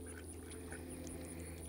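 Ducks quacking in a free-range farmyard, faint scattered calls over a steady low hum, with no voices.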